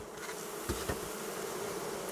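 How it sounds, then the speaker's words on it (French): Honey bees buzz around the combs of a hive, a steady, faint hum with a couple of brief louder passes close by. "éloigne ses abeilles des rayons avant la récolte"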